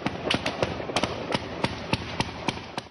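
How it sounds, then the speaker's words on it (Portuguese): Gunmen fire multiple shots in a street during attacks in Russia: about nine sharp, cracking reports at irregular intervals, fairly distant and echoing, with no other sound between them. "os atiradores de preto cercando uma rua e disparando vários tiros."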